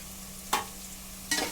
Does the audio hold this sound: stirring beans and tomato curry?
yes